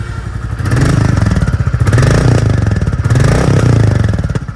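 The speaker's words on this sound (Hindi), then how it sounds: "एक बार आपको मैं इसका एग्जॉस्ट नोट सुना देता हूँ, क्योंकि एग्जॉस्ट नोट बहुत ही बढ़िया है।" A Royal Enfield Bullet 350 with its stock, unmodified exhaust idles and revs in a deep, thumping single-cylinder beat, loud and close, swelling twice before easing back.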